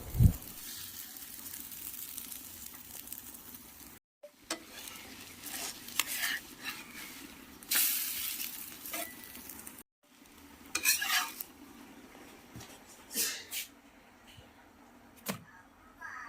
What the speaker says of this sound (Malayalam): ഗോതമ്പ് ദോശയും അതുപോലെ കിഴങ്ങറി ഉണ്ടാക്കുവാണ് കേട്ടോ